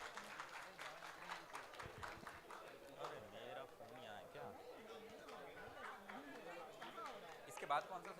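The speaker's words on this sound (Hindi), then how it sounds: "जोरदार तालियों से एक बार हम अभिवंदन करेंगे।" Audience applause in a conference hall at an international Arya convention, a crowd clapping steadily under murmuring chatter for several seconds.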